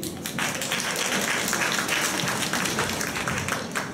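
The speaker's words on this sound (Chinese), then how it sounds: "请给他掌声鼓励。" Audience applause at a Rockschool debut music performance: steady, dense clapping from a crowd that holds at an even level for the full stretch, with no talk over it.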